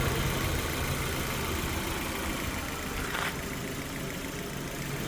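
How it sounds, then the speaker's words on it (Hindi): A Maruti WagonR's 4-cylinder engine idles steadily in a continuous low, even drone with no talking, heard close and at constant level throughout. "ये कुछ इसका इंजन साउंड है।"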